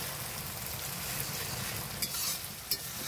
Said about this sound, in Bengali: পেঁয়াজটা মরে গেছে, এবার রসুনটা দিয়ে দেওয়া হলো।